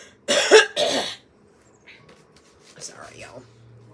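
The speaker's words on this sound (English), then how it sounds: "That's what happens when you have to cough up the last little bit of lung." Two loud, harsh coughs close to the mic, followed by a quieter throat sound and faint rustling.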